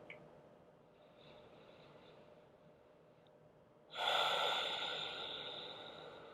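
A single long exhale during a yoga flow comes after a quiet stretch, breathed out forcefully through the nose in a close, breathy rush that tapers off gradually.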